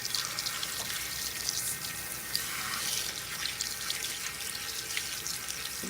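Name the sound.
rinsing a comb under a running water tap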